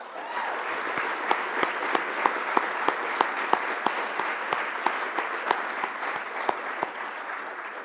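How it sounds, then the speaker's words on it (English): An audience applauds two women who organized the conference, during opening remarks. The clapping is dense, steady and sustained throughout, with crisp individual claps standing out, and no one speaks. "we please give those two ladies a round of applause"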